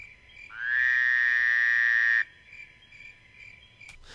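Steady, faint cricket chirping runs throughout, briefly drowned out by a loud, buzzy sustained tone that swells in and cuts off abruptly.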